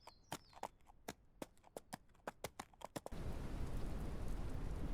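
Horse hooves clip-clop in a video game about building a horse ranch, a steady run of sharp, close hoofbeats for about three seconds before giving way to a dense, constant wash of noise, with no talking.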